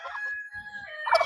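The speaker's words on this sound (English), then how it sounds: "They're ducks, but I call everybody a chicken." Young ducks on a rainy farm give a few faint, nasal calls in quick succession, the last burst louder and nearer, with soft rustling between.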